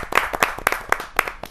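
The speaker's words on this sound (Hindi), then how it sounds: "आपकी जोरदार तालियां मिले" An audience at a kavi sammelan poetry gathering claps in a short, uneven burst of distinct hand claps, close and fairly loud, lasting under two seconds.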